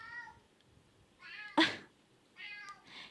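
A pet cat meows several times in a row, a few drawn-out harmonic cries separated by short pauses, with one sharper, louder yowl in the middle, close and clear, with no talking.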